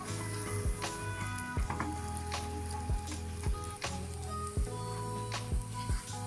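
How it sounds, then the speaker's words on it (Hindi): Makhandi white halwa cooking in a pan while a spoon stirs it continuously, a soft steady sizzle and bubbling with repeated light scrapes and taps of the spoon against the pan at a fairly even rhythm. "चम्मच चलाते ही रहना है आपने।"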